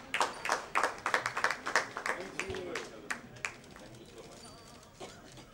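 A crowd at a radio news show launch event claps loudly for several seconds, the sharp bursts thinning into scattered claps before fading, with voices talking underneath.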